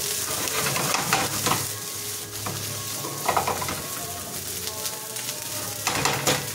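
Wagyu fried rice sizzles steadily in a pan over a low fire, a continuous close frying hiss broken by occasional scrapes and stirring clatter, with no talking.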